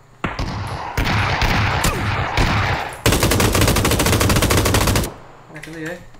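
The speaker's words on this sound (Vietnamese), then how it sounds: "có tiếng súng gần đây." Rapid automatic gunfire rattles loudly from close by in PUBG, a dense burst of repeated shots followed by a second sustained volley before cutting off.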